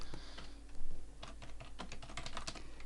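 Steady typing on a computer keyboard while entering a nested IF formula in a Microsoft Excel spreadsheet, with a rapid run of close, distinct key clicks and no talking.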